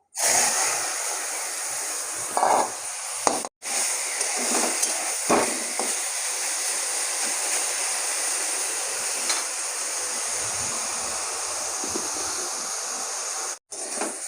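Potato greens with eggplant going into a pan of fried chili and garlic, producing a loud, steady hiss of frying that runs almost throughout, with a few brief clatters of a utensil and two short cuts to silence.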